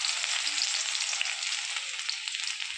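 Crushed garlic sizzles steadily in hot oil in a kadhai, a loud, continuous frying hiss with no pauses or voices.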